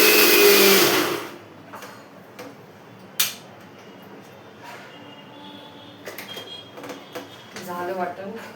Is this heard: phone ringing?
no